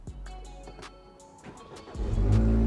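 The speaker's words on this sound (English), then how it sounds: "I'll show you guys live me turning the car on to make sure that everything is fully functional" A BMW F30 sedan's engine cranks and catches near the end, rising into a loud, steady idle after a quieter lead-in of cabin noise and clicks.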